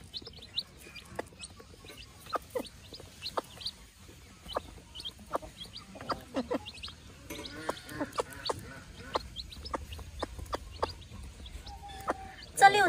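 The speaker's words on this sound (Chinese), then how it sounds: "它是叫它的崽吃，把这个小鸡饲料啄碎了，然后叫小鸡过来吃" A mother hen makes soft, repeated clucks close by, calling her small chicks to come and eat crushed chick feed, while chicks peep quietly between the clucks.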